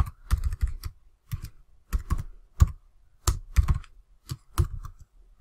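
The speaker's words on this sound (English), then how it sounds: "let's type some code" Someone types on a computer keyboard while writing code: quick bursts of crisp key clicks in irregular clusters, separated by short pauses, close and fairly quiet, with no voice.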